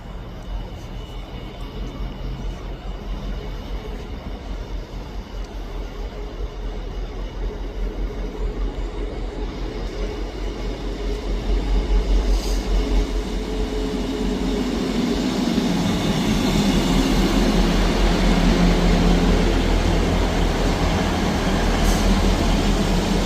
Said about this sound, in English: Arriving in now is the 11:28 ScotRail service from Cowdenbeath to Edinburgh Waverley.